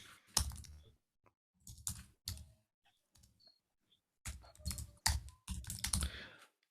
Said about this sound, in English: I'm typing my iPad